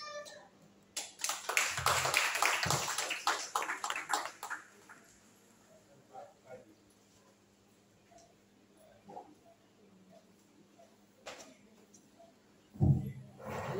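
A church congregation claps for the Lord in a burst of rapid, irregular applause lasting a few seconds, moderately close, which then fades into quiet room noise with scattered faint knocks and a brief thump near the end.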